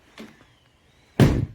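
A Nissan Pathfinder car door is shut with one solid, close thunk, preceded by a faint softer click in an otherwise quiet space.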